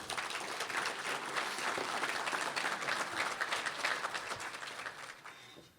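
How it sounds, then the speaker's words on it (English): At an agriculture awards banquet, diners applaud the sponsors with a sustained round of clapping from many hands, holding steady before tapering off at the end. "let's give all of our sponsors a big round of applause"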